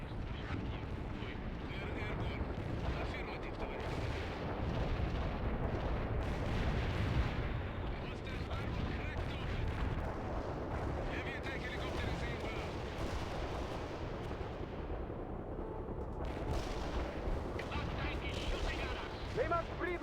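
Artillery batteries firing in the World in Conflict strategy game make a dense, continuous rumble of booming blasts and explosions, with battle clutter layered over it and voices talking intermittently.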